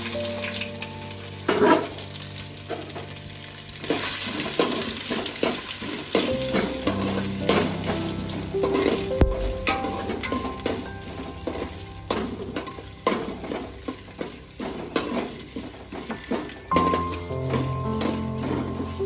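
Coconut pieces frying in a pan with mustard seeds and curry leaves for a Kerala-style chicken curry, with continuous loud sizzling broken by frequent spatula scrapes and clanks against the pan.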